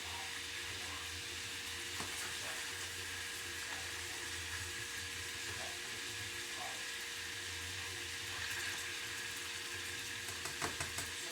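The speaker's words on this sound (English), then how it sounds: "they're definitely cooking. I hear them sizzling" Chicken chorizo burgers sizzle quietly and steadily in a frying pan, a continuous hiss with faint crackles and pops, with no voices.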